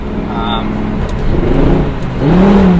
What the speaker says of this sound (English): The first generation Gallardos have some of the best sounding V10s ever made.